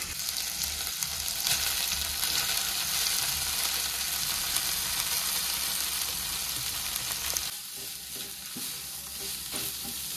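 Grated beetroot and carrot with ginger and green chilli paste are stirred in a frying pan, a steady loud sizzle with spatula scraping that runs continuously, then drops quieter near the end.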